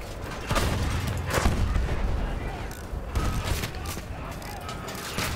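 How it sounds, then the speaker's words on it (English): Dense, sustained barrage of booming blasts and gunfire-like bursts in Battlefield 1 combat, with several grenade explosions standing out around the one-, three- and four-second marks amid continuous loud battle noise. "Oh my god, so many grenades!"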